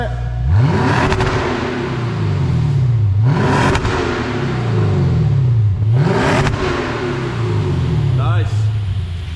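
A Lexus RC-F with a custom stainless valvetronic exhaust, valves open, revved three times in a row. Each rev climbs quickly into a loud, rising roar, then drops back to a deep idle burble. A voice is faintly heard under the engine.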